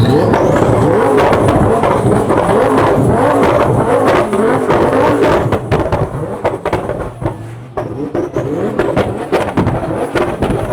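A Lamborghini Huracan revs hard and roars nearby, shooting exhaust flames with sharp popping bursts amid a noisy crowd at a packed car meet.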